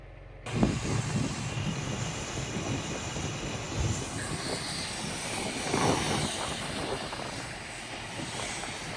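An old tractor engine runs on a farm with irrigation and cotton sowing, a loud, steady mechanical drone and rumble, close by and unbroken throughout.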